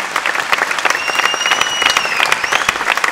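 Audience applause welcoming a singer onto the stage at a live concert, dense and continuous clapping from a crowd, with a sustained tonal sound gliding above it.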